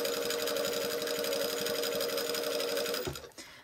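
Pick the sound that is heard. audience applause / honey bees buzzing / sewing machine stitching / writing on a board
sewing machine stitching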